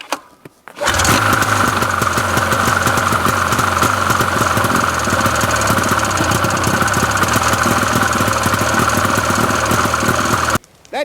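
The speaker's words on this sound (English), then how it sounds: "I hit the primer button 3 times, and it started the first pull." An old snowmobile engine, started after sitting six years, catches and runs loud and steady with a rough, rattling knock, continuing unbroken for about ten seconds before cutting off abruptly.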